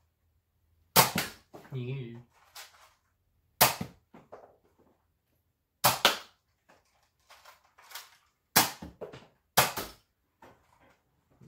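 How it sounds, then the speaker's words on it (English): Nerf Hammershot blaster fitted with a homemade plunger pad firing about six sharp, snapping shots at uneven intervals, close and crisp, with light handling clicks between and one brief spoken word. "the sound it makes when I dry fire it on accident without pad"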